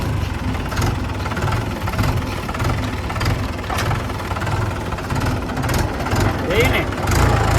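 A tractor engine idles and chugs with a steady low, knocking rumble, heard close while voices talk over it.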